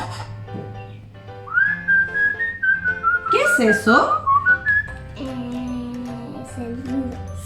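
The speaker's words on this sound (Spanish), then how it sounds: "Silbido, es silbar" A person whistles a rising and falling tune, with warbling trills, in a children's class on body sounds; a voice asks a question and adults speak briefly around it.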